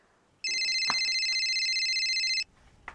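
A telephone rings with one sustained electronic trill lasting about two seconds in a quiet village home, clear and close.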